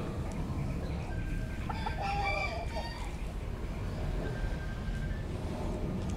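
Tagalog-bred fighting gamecock roosters crowing and clucking in a yard, a short crow and scattered clucks near the middle over steady outdoor background noise.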